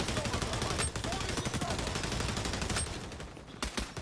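Rapid automatic gunfire in a first-person shooter match on a spawn-heavy map, dense continuous bursts of shots at moderate level with a few sharper cracks.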